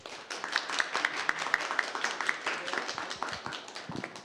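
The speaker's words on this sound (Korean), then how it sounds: "뜨거운 박수로 맞이해 주시기 바랍니다" Studio audience of citizen reporters applauding to welcome the Seoul mayor onto the stage, a steady, moderately loud wash of clapping with a few sharper hand claps standing out, lasting the whole stretch.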